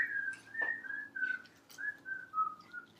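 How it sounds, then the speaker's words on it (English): People whistle in a school classroom: a run of clear, melodic whistled notes in short phrases, close and fairly loud, with no talking. "That's some high quality whistling."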